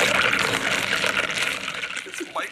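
Liquid is poured to mix grape Kool-Aid from packets, a close, continuous splashing gush that runs for a couple of seconds and trails off into a few drips, with no talk over it.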